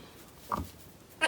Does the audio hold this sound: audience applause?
no